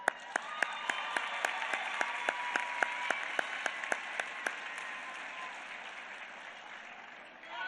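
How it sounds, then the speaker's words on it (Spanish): A crowd at a public housing and welfare event in Rincón de Romos, Aguascalientes, breaks into sustained applause, a dense even roar of clapping with regular sharp beats cutting through, tapering near the end. "Un aplauso."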